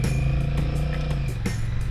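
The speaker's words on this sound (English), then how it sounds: "so this one actually revved up a little bit more" A 2021 Honda Rebel 1100 motorcycle engine runs in sport mode with a low, steady drone and a slight rise in pitch as it revs, heard close over wind and road noise.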